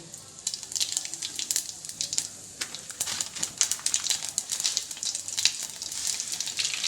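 Cumin seeds sizzle in hot oil for a capsicum vegetable dish, a close, steady crackle of dense popping spatters that keeps going throughout.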